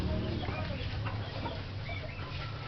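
Chickens and young chicks on a farm, soft clucking and peeping against a steady low background hum, fairly close and continuous.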